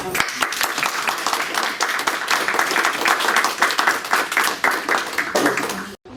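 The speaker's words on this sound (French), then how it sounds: "On va vous applaudir à nouveau." Audience applauding a speaker at the end of a talk on the silent army: dense sustained clapping from a crowd lasting about six seconds, steady and fairly loud before cutting off abruptly.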